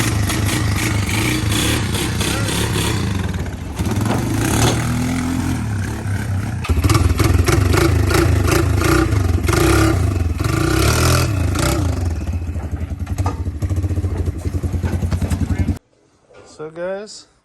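Polaris Phoenix 200 four-stroke ATV engines with CVT automatics run and rev loudly up close, a rough clattering idle rising and falling in pitch before abruptly cutting off, with voices talking over the engines.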